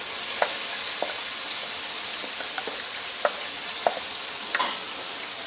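Masala for stuffed tinda frying in a pan, a constant close hiss of sizzling oil broken by light, irregular taps and scrapes of a spoon, no speech.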